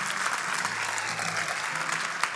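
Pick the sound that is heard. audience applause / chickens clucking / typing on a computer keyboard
audience applause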